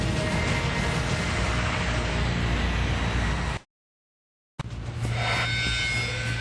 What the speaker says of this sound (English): The 747 starts heading down the runway towards the Pan Am, which is still on the airstrip